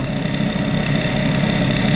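A motor idles steadily up close, a loud, even low rumble with a constant hum and no change in pace.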